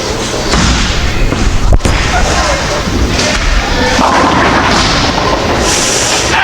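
Urethane bowling ball rolling down a lane on the USBC Open Championship pattern, a steady rumbling roll broken by a sharp crack near the middle, with a busy alley roar continuing all around.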